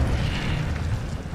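A fiery Incendio spell blast from Hogwarts Legacy gameplay erupts as a loud, dense burst that roars steadily for over a second with heavy low-end rumble.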